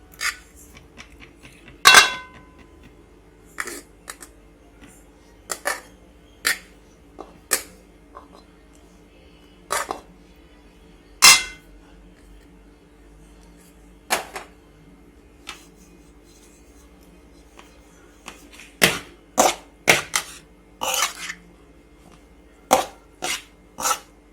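A spoon scrapes and clinks against a pan at irregular intervals as cooked rice is mixed into tamarind mixture for puliyodharai, the sharp metallic taps close and isolated between quiet stretches.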